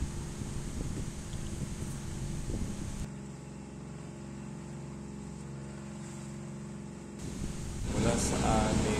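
A motor boat crossing choppy sea toward the Tabaco City pier drones steadily, with wind buffeting the microphone; louder gusts and water splashing come at the start and again near the end.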